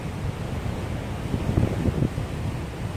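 Strong wind buffets the microphone over the steady wash of sea swell at a rocky island coast after a typhoon, a continuous rushing roar with no talk.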